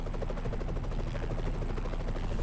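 A helicopter in the Splinter Cell Conviction video game hovers close by, its rotor chopping in a fast, steady, even rhythm, moderately loud and alone.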